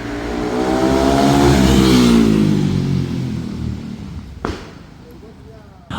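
BENDA 707 motorcycle revving close by, its engine swelling to a loud drone then easing off, with a sharp exhaust pop near the end and a voice speaking over it.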